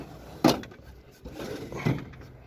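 The middle drawer of an old estate-sale toolbox slides open with two scraping, clunking pulls, one early and one near the end, close and fairly loud in a quiet room.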